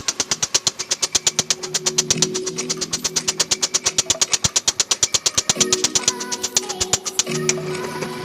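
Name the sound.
power hammer machine striking metal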